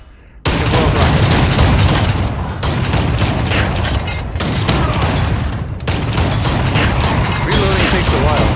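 Rockets being shot and blown up in the VR video game ArmZ: a dense, continuous barrage of loud gunfire and blasts that keeps up with only brief gaps.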